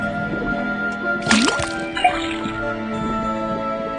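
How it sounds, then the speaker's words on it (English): Liquid drips from a faucet in the Detective Grimoire video game, a few soft drips and a squishy splash heard over a quiet, humming game soundtrack. "First thing we do, then tap the faucet."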